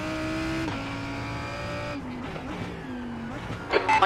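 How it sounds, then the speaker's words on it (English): A race car engine in iRacing drones steadily in multiclass racing at Imola, its pitch shifting with gear changes as a faster car closes in, with a brief rising whine near the end. "There's a faster car approaching."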